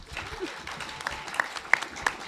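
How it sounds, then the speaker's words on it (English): An audience at an alumni panel claps briefly, a modest scatter of hand claps with a few sharper individual claps standing out near the close. "Can y'all please clap it up for her?"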